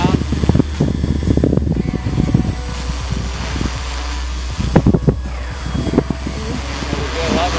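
A Turbo Ace X830d quadcopter hovers and lands in wind during its return-home flight, its rotors whirring steadily under gusty wind noise and scattered talk close by.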